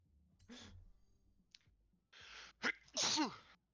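Sneezes from a person with a cold during a Forza Horizon 4 gaming session: a soft intake, then two sharp sneezes close to the microphone, the second louder, with faint clicks between them and no speech.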